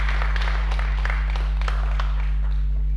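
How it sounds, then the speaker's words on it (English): Scattered applause from a conference audience for a keynote speaker at an event on Africa, a modest run of claps over a strong low electrical hum. "Let's give another round of applause to our keynote speaker"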